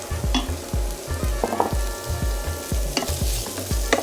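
Smoked pancetta fries in a pan with a bright, constant sizzle, over a rhythmic series of low thumps and occasional clinks of a utensil against the pan.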